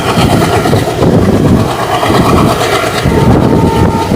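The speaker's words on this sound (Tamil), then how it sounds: "அதனால ட்ரெயினை இழுக்கிறதுக்கு பயங்கர சவுண்டு போடுது" Salem Yesvantpur Express train labouring up a rising grade, its engine roaring steadily and loudly with rumbling low-frequency rail noise throughout, no voices.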